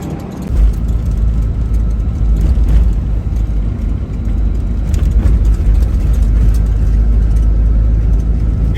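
Inside a car driving along a road, a heavy, continuous low engine and road rumble holds steady throughout, loud and close, with no speech.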